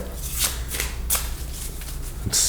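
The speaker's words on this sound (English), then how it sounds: "get a good shuffle here" Tarot cards being shuffled by hand, a run of quick riffling bursts close to the microphone, each a brief papery flutter, with a louder burst at the end.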